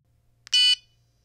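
The TIREBOSS tire pressure system alarm, fitted in a truck, sounds one short, bright electronic beep about a quarter second long over a faint low hum.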